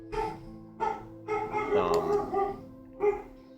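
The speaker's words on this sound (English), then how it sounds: "I hear puppies." A pet dog barks repeatedly in a room during a tabletop role-playing game session, a string of sharp woofs and yips at moderate volume with a brief jumble of sound in the middle.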